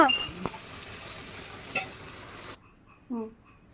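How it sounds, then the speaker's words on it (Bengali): Chicken pieces frying in a pan with onion and garlic, a steady close sizzle filling the first part with scraping stir sounds, then dropping away to near quiet with a brief voice toward the end. "এখন মাংস দেখো লাল লাল ঝাল ঝাল কষিয়ে দিচ্ছি"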